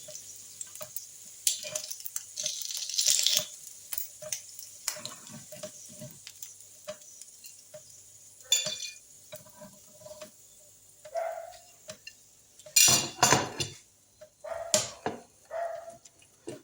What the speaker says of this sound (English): So allow my bacon get grilled.